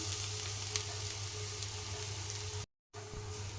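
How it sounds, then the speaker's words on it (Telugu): Carrots frying in ghee in a pan as they are stirred, a soft continuous sizzle that holds steady, briefly drops out, then resumes, close and quiet with no voices. "ఇలా గీలో క్యారెట్ కలుపుతూ ఫ్రై చేస్తూ ఉంటే వావ్, స్మెల్ చాలా బాగా వస్తుంది."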